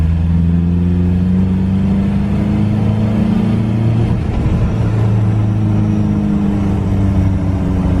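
A Toyota with a swapped TDI diesel engine runs loud and close in a continuous rumbling drone, wavering slightly near the middle, with no talk.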